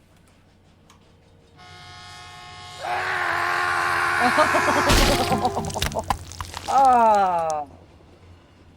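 A train sound effect plays as the train barrels straight onto a man standing on the tracks, a rising horn-like tone and roar swelling over several seconds with a sharp crash burst midway, and a brief voice exclaims.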